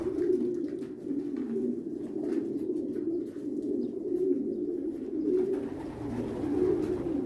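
Pigeons at a pigeon farm coo softly and continuously, several birds overlapping in low, rolling calls close by, with a few faint chirps above them and no speech.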